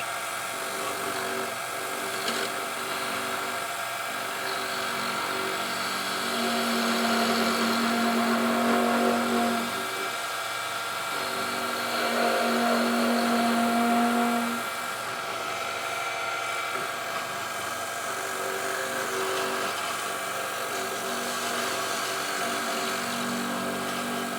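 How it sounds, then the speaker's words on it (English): A woodturning tool cuts a hybrid pizza cutter handle spinning on a lathe, with the tool held far off the tool rest; steady motor hum carries two louder stretches of buzzing, chattering vibration from the cut. "that vibration sound that you're hearing when I'm cutting with that tool"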